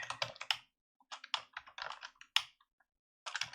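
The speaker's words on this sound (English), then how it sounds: "I'll get sick of typing all this after a while." Bursts of quick clicking keystrokes on a computer keyboard, close and crisp, come in short clusters separated by brief pauses while someone types out plugin code.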